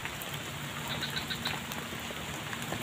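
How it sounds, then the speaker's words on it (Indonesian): Heavy rain falls steadily in a village, a dense, even hiss of drops close by with no voices and a faint bird or frog call in the background. "Lagi turun hujan tuh"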